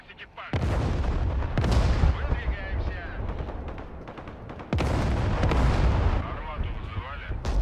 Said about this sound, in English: These artillery pieces are actually a lot stronger than I thought they were.